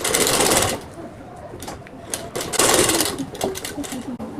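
Sewing machine stitching along blouse piping, close whirring bursts of rapid needle clatter with short pauses between runs.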